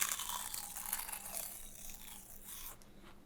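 Crisp baked kale chips crunch and crackle up close, a quiet brittle texture that runs steadily for about three seconds with no talking.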